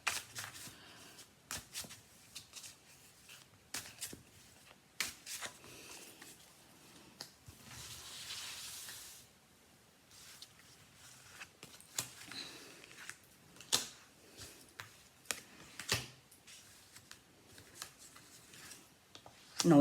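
Tarot cards shuffled by hand in repeated bursts of riffling and flicking, with soft slaps and pauses between passes, fairly close and moderately quiet.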